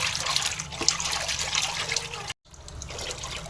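Water splashes and trickles steadily as dried fish is rinsed by hand, with a brief silent gap before the sloshing resumes. No one speaks.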